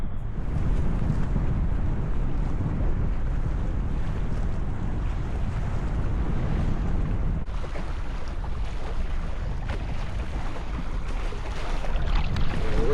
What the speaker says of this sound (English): It looks like we got a little break in the wind, but it's just been gusting off and on nonstop.